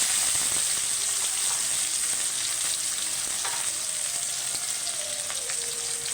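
Tomatoes and green chillies fry in a pan for a Bengali puri torkari curry, giving a steady, close, continuous sizzle with faint clinks and stirring scrapes and no one talking.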